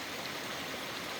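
Creek water rushing along a hiking trail to Lee Falls, a steady close broadband roar of flowing water with no voices.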